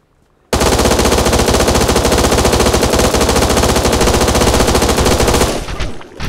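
Rapid automatic gunfire in the video game Eden Star, a loud unbroken stream of shots lasting several seconds after a brief quiet start, then cutting off abruptly.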